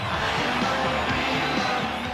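A sold-out pro wrestling arena crowd cheering Hulk Hogan, a dense, continuous roar of voices with rising shouts, loud and sustained throughout.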